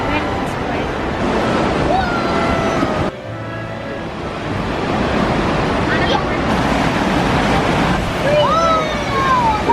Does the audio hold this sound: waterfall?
yes